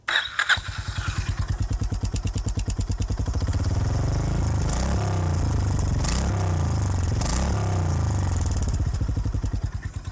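A Honda CB350RS motorcycle's exhaust note, a deep, punchy and steady idle, close and loud, with a few brief revs swelling in the middle. No voices.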